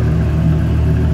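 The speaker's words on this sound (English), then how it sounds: "got a 2004 Dodge Viper SRT 10 convertible" A 2004 Dodge Viper SRT10 convertible engine rumbles close and loud in a steady, low, throaty drone for about a second, with no voices.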